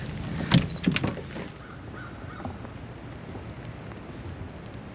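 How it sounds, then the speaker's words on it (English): Steady hiss of rain falling, with a couple of sharp knocks near the start, then an even patter. "it's raining"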